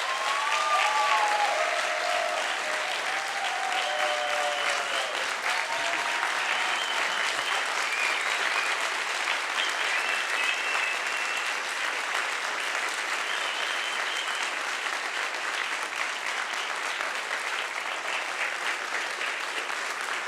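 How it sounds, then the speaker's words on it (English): Audience at a council meeting in Budapest giving sustained applause, a steady wash of many hands clapping at moderate distance, with faint voices and a few brief melodic tones early on. "So please, big applause for them."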